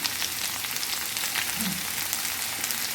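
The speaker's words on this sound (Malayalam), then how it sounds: "നമുക്ക് സവാള ചേർത്ത് നന്നായിട്ടൊന്ന് വഴറ്റി കൊടുക്കാം" Sliced onion sautéing with ginger and garlic in a pan makes a dense, even hiss with a faint crackle, close and constant for the whole stretch.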